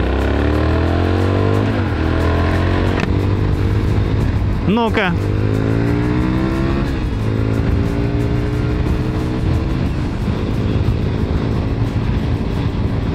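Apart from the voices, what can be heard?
Cagiva Raptor motorcycle engine revving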